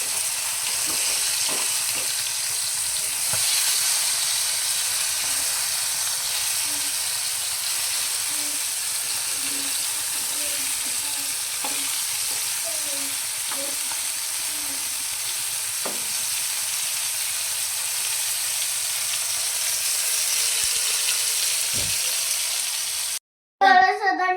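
Bombay duck (bombil) fish fillets fry in a hot pan in a Malvani-style kitchen, giving a steady close sizzle and crackle that runs unbroken with small spits and pops, then cuts off abruptly at the end.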